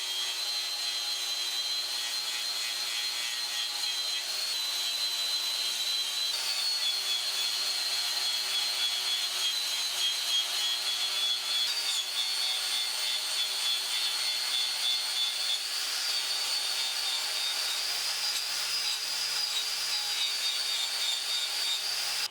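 A grinder polishes steel with polishing compound, giving a steady, continuous high-pitched whirring rub that holds level and close throughout with no talking.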